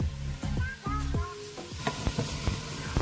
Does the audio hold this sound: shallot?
yes